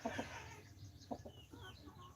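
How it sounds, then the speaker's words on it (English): A native hen clucks faintly in a few short bursts, with a couple of soft clucks near the start and another around the middle, over a low steady background hum. "This is a hen, female chicken."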